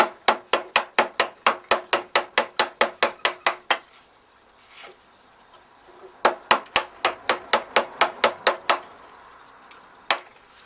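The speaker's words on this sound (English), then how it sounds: "then use a mallet. Working the chisel uphill, work towards the middle." A mallet strikes a chisel while a wooden tee halving joint is cut, giving sharp, close wooden knocks in fast, even bursts of about a dozen blows each, separated by a short pause, with one last single hit at the end.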